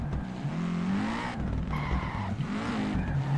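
A car drifts with sustained tire skid and squeal in the racing video game Peak Angle, the engine droning underneath as the squeal wavers and shifts pitch, loud and continuous.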